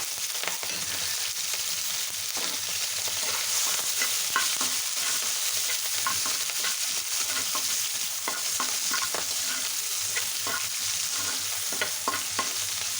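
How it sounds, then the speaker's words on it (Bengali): Chopped onion and green chilies fry in hot oil with black cumin seeds while a utensil stirs them, giving a steady close sizzle with repeated scraping stirs throughout and no talking. "দিয়ে দেবো পেঁয়াজ কুচি, কাঁচামরিচ দিয়ে দেবো, ভালো করে নেড়ে নেবো"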